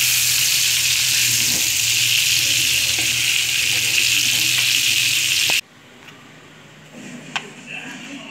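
Sea bass frying in a pan gives a loud, steady, close sizzle and crackle for several seconds, then it cuts off abruptly to quiet kitchen sounds with a faint clink.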